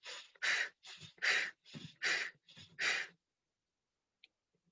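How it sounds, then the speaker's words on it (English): Fire breath during a solar plexus chakra practice: eight rapid, forceful breaths in and out through the belly, a steady rhythmic series of loud nasal huffs that stops abruptly into silence. "Fire breath is actually into your belly and then exhale through your belly."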